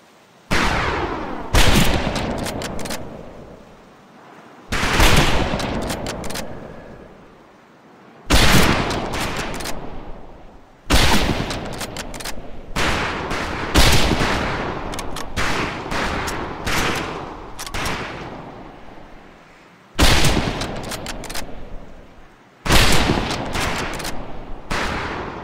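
Rifle fire on a boot-camp firing range in the video game Medal of Honor: Pacific Assault: loud, sharp shots arrive in bursts and volleys, each cluster followed by ringing decay and short pauses, with no talk over them.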